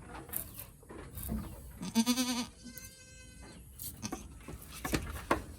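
A goat bleats while being milked by hand, a single wavering cry in the middle of nearby shuffling, handling noises and insect buzz, with another faint bleat-like call shortly after.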